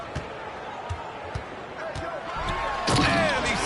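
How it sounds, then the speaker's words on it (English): A one-handed slam dunk during a league basketball game: a few sharp ball thumps early on, then a louder impact as the crowd's roar swells near the end, under steady arena noise. "And he slams it in one-handed"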